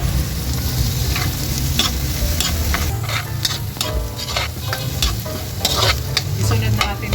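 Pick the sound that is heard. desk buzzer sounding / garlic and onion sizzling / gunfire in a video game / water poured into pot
garlic and onion sizzling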